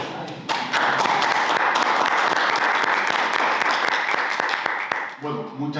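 An audience claps warmly at a forum marking two years since the 18-O insurrection, a dense, even burst of applause lasting several seconds before fading as a speaker begins talking.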